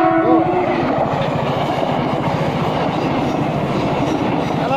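An empty coal freight train rumbles past close by at night, steady wheel noise and rhythmic clatter filling the whole stretch without a pause.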